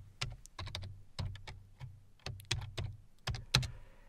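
Fingers tapping out a PowerShell command on a computer keyboard, a quick run of close, crisp keystrokes in uneven bursts with short pauses, ending on a firmer final key press.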